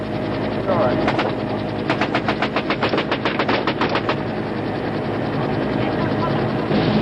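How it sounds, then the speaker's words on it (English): Machine gun fire from the crew of a medevac helicopter taking fire in Vietnam, rapid loud bursts rattling over the constant roar and thump of the rotor and engine. "He and the crew chief return their fire."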